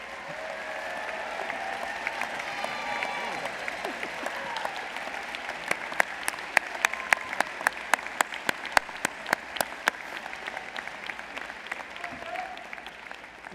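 Graduates applaud themselves at a SUNY Broome commencement, with crowd clapping building from a soft spread to a steady run of sharp, distinct claps that rise out of the hall's murmur before easing off.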